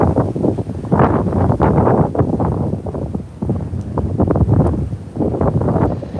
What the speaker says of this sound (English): But wind chills are 12 degrees right now, and you can feel the wind.